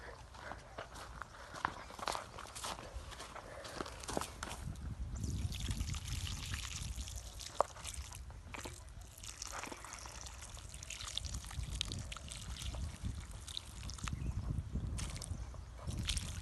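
Water pours and trickles onto soil outdoors around a planted fig tree, mixed with shuffling footsteps and rustling nearby.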